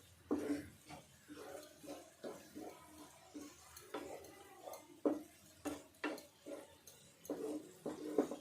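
A spoon stirs thick coconut sweet batter in a pan, making a steady rhythm of soft wet scraping strokes roughly every second, close but fairly quiet, with no one talking over it.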